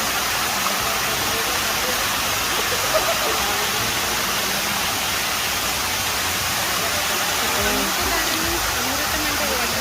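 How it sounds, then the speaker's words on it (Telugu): Amruthadhara waterfall at Maredumilli in Andhra Pradesh pours with a dense, constant roar of falling water, loud and unbroken throughout. "ఇది అమృతధార వాటర్ ఫాల్."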